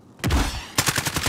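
Rapid bursts of gunfire in a Call of Duty Warzone battle royale match on the 1984 Verdansk map: a loud sustained volley, a brief lull, then a quick rhythmic string of shots, close and alone.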